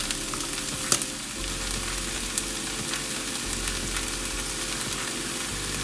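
Garlic sizzles and fries in a pan with mushrooms and onions, a steady close crackle with occasional louder pops and stirring sounds, no talking.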